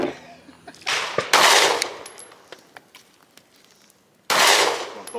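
Loud, close reports from a 9 millimeter pistol at a shooting range, with two sharp shots followed by a longer blast and scattered faint clicks in between.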